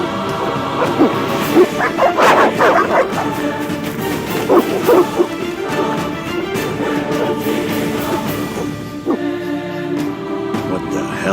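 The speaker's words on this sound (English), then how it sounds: "They're evil dogs." Dogs bark and yip in The Witcher (Enhanced Edition), loud, repeated yelps and whimpers mixed with game music and crashing noises throughout.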